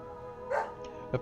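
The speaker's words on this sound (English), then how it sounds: "And then a dog appeared." A dog in the Deadly Premonition video game gives two short barks, the first a fuller yelp, the second a sharper bark near the end, over a quiet game background hum.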